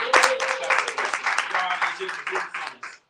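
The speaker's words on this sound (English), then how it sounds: "Clap it up for yourselves real quick." A retreat audience claps for themselves at a business talk, a burst of close, rapid clapping that tapers off over about three seconds with voices mixed in.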